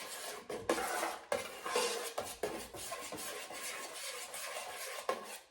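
A metal spoon stirs and scrapes through salsa in a bowl, with close, repeated clinks and scraping strokes in an uneven rhythm, no talking.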